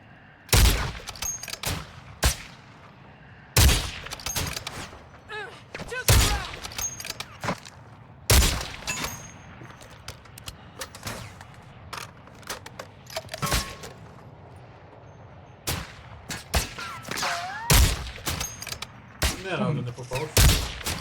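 Repeated sharp gunshots from Call of Duty Warzone DMZ, scattered single and clustered bursts over about twenty seconds, including sniper fire, with quieter game ambience between shots.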